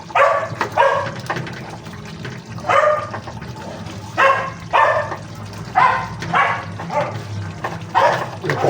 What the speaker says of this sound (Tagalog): Yung pong aso ng kapitbahay.